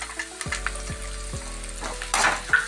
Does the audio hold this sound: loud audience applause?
no